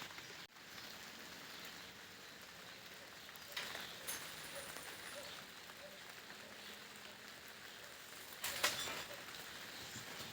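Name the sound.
light rain falling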